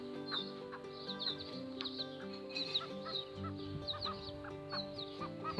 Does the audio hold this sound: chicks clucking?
yes